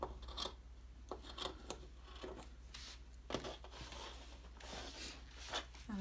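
Scissors cutting a fabric neckline for a bishop-sleeve top, soft close snips and rasping blade strokes recurring irregularly, quiet with light rustling of cloth between cuts.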